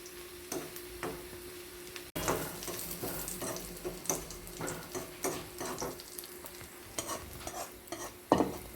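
Chopped shallots frying in coconut oil for a snake gourd and dried shrimp curry, a constant crackling sizzle broken by repeated spoon stirs and scrapes, close and fairly loud, with no talk.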